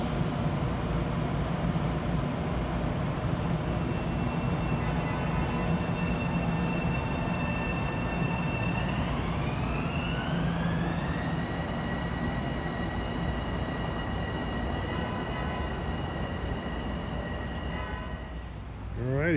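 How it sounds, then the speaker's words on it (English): An eastbound Long Island Rail Road diesel train on the Oyster Bay branch rolls past on the triple track near Carle Place and Mineola on a damp day, a loud steady rumble with a horn-like tone sliding upward midway before easing off at the end. "Got an eastbound Oyster Bay train due soon"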